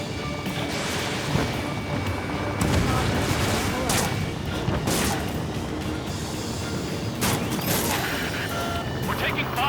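In the Ace Combat 7 video game, gunfire and crashing impacts pound allied ground units, dense bursts and booms layered over radio voices calling out in the heat of battle.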